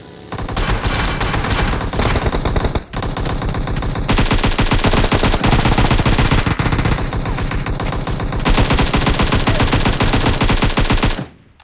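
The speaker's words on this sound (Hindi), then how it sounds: "तभी मुझे गन शॉट के साउंड आते हैं" Rapid automatic gunfire in the mobile battle royale game BGMI rattles loudly and almost nonstop, with short pauses between long bursts and a sudden stop at the end.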